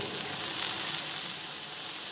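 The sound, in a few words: crackling while frying in a pan before adding boiled chicken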